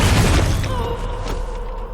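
A film sniper rifle fires a single heavy, booming shot right at the start, loud and close, its deep blast rolling off into a fading rumble.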